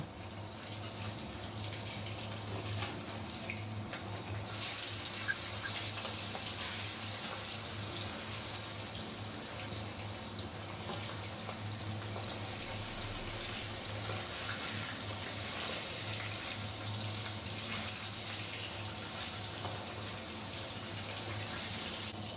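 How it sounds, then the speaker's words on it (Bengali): Hilsa fish frying in hot mustard oil gives a steady, even sizzle and hiss that continues without a break, with no voices. "এক পিঠ ভাজা হয়ে গেছে, আর এক পিঠ ভেজে নেব।"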